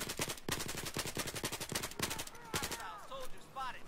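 Rapid automatic gunfire in Battlefield 4, bursts of close sharp shots in quick rhythm, then brief pauses with chirping game effects, and a voice briefly heard over the shooting.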